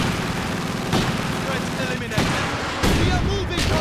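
Machine gun fire and battle noise from the World War II strategy game Company of Heroes 2, set at Stalingrad, a dense continuous roar of gunfire with bursts and booms layered over one another, loud and unbroken.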